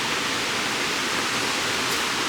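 Booloumba Creek waterfall roars as a constant, dense wash of falling water, steady and full without a break, with no voices over it.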